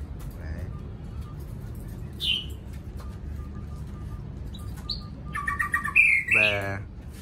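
Caged songbirds such as hwamei, magpie robin and bulbul chirp in a cramped home setup, giving scattered short tweets and whistles, then a louder burst of rapid warbling near the end over a low background hum.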